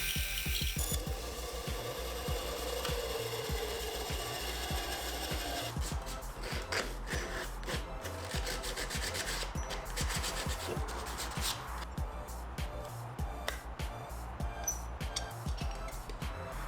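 Rhythmic scraping strokes of light sanding on a plywood template, repeated steadily at close range and fairly quiet.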